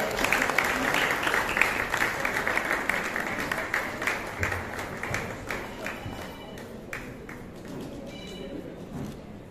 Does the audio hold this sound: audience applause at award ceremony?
yes